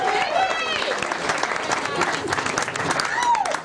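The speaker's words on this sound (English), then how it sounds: "Give a big round of applause for your wait staff." Audience applause for the wait staff at a comedy night, a dense wash of clapping from a crowd with voices and whoops mixed in throughout.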